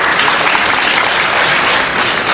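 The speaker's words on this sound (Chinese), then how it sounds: "我们给神父再一个鼓励的掌声" A church congregation applauding a priest, dense sustained clapping from many hands filling the room at full loudness throughout.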